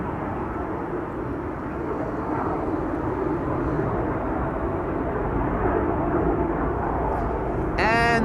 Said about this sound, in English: That's BizJet having taken off from runway 22.